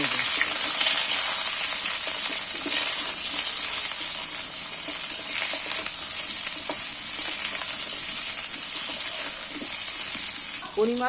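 Cut eggplant pieces frying in oil make a continuous, close, loud sizzle and crackle that holds steady throughout, with a brief clatter right at the end.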